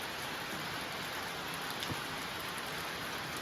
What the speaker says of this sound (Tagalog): so kanina pa tong yung ulan